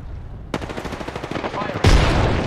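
Enemy gunfire in the video game Apex Legends, a rapid automatic burst of shots rattling close and loud, followed by a heavier sharp blast, mixed with game sounds.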